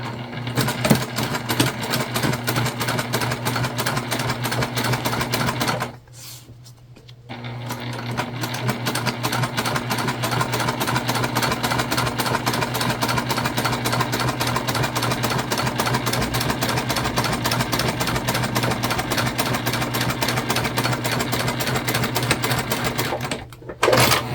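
A sewing machine stitching fabric panels for a candy bag, running with a fast steady mechanical whir and needle rattle, briefly pausing once, close and loud throughout.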